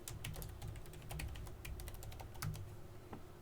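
Rapid, close clicking of keys on a computer keyboard while a login name and password are typed, a steady run of light taps with no speech.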